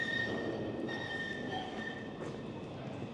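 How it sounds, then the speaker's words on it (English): A tram passes along a city street in Besançon, France, its steady rumble filling the air with faint wheel squeal and high tonal whine, continuous and fairly close, with no talking over it. "Here comes one of the trams now."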